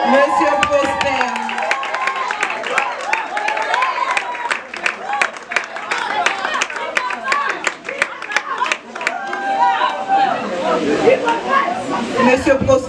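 Audience applause at a certificate-giving ceremony after a training course, with clapping running continuously through the moment, mixed with crowd chatter and a host's voice talking over it.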